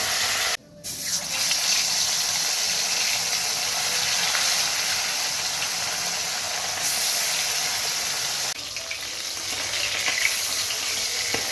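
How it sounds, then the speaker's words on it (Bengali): Bata fish frying in hot oil in a kadai gives a loud, steady sizzle and hiss for the whole stretch, with two brief dips in the crackle near the start and toward the end. No voices. "বেশ ভালো করে মাছটা ভাজা হয়ে গেছে"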